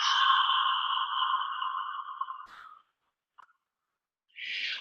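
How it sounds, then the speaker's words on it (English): Long breathy whispered Ujjayi breath exhale with a hissing, airy tone that fades out, followed by a brief click, silence, and another breathy rush starting. "it's called Ujjayi breath, but we just make it very simple, just generating the sound of a whisper"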